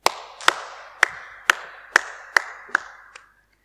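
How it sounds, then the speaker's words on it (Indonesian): Eight sharp hand claps sound alone in a quiet space at a Sunday church service, spaced about half a second apart and gradually fading, with a short reverberant tail after each. "Kita pertemukan untuk tepuk tangan."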